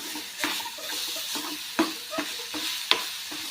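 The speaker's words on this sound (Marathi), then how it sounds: "असं खाली परतोत राहायचं नाही तर मग खाली कढईला चिटकणार" Jaggery melting in a kadhai for a modak filling is stirred with a spoon, giving a steady soft sizzle broken by several sharp scraping strokes against the pan, close and without talk.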